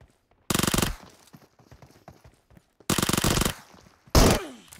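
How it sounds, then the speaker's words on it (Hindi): Three rapid bursts of automatic M4 rifle fire from a video game crack out loud and close, each lasting under a second, separated by quieter stretches of faint background noise. "बहुत अच्छी गन दिया मेरे को, M4 दे दिया भैया।"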